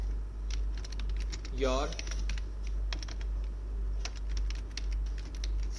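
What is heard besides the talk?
typing on a computer keyboard while writing HTML code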